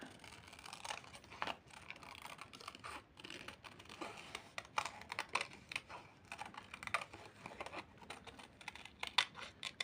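Soft, steady snipping and crinkling of scissors cutting a butterfly shape from paper, close and quiet, with a continuous scratchy texture and no talking.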